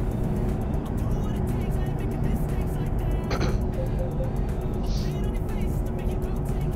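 A truck engine hums and rumbles steadily while driving and slowing in Euro Truck Simulator 2, continuous and loud, with a few faint clicks and brief tones over the drone.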